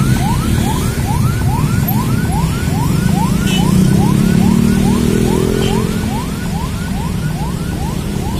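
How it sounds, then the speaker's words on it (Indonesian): An ambulance siren near Duren Sawit hospital by the East Flood Canal wails in fast, repeated rising sweeps, loud and close, over steady road traffic noise. "Banyak ambulan rumah sakit ini."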